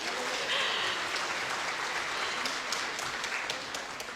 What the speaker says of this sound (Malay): Jadi berikan tepukan sekali lagi.